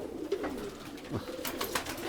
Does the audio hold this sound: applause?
no